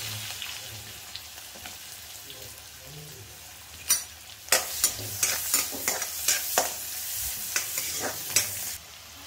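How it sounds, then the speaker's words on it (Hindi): Onion frying in butter and oil in a kadhai with a cardamom pod, first a soft low sizzle, then a string of sharp stirring scrapes and clatters from about four seconds on. "यहाँ पे डाला मैंने इसके अंदर बटर, ये डालूंगी इलायची एक, उसके बाद मैं यहाँ पे डालूंगी ये प्याज"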